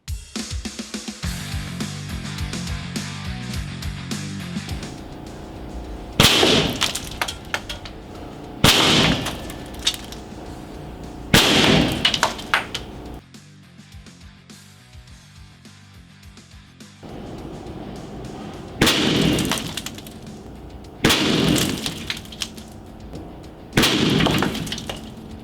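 An Airforce Texan .357 airgun fires at an outdoor range, six or seven loud sharp cracks at uneven intervals, each followed by a short ringing tail, with quieter handling noise between shots.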